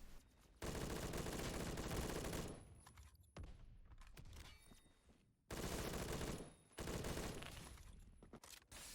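HK-416 rifle fire in the Roblox game Phantom Forces, with loud, rapid automatic bursts in two long strings separated by quieter gaps.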